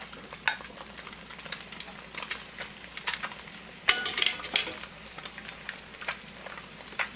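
Breakfast food sizzling and frying in a pan, with bacon, eggs and scones on the menu, a steady crackling hiss broken by scattered sharp pops and a few louder bursts of spatter, close and without talk.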